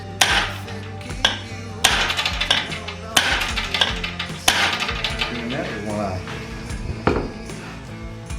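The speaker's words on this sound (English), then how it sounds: "chop a rod with a bigger hammer" Repeated sharp metallic clanks of a hammer striking a metal rod on a 1950 Cushman, roughly every second or so, ringing briefly after each strike.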